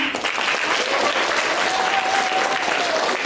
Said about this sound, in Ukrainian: Ваші оплески нам